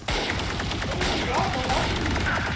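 Rapid bursts of gunfire in a competitive Valorant esports match during an A-site push, dense overlapping shots close and loud across the whole stretch, with a caster's voice running beneath.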